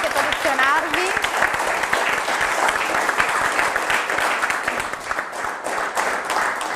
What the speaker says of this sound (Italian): facciamo un applauso ai vostri capitani